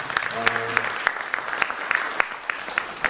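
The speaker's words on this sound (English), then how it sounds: "Firstly, I think he deserves a huge round of applause." Audience applause at a print and UV industry conference in Delhi, a steady patter of claps with sharp individual hits throughout, fairly close and moderately loud, with a brief low voice murmuring near the start.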